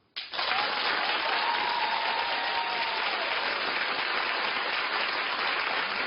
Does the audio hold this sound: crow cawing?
no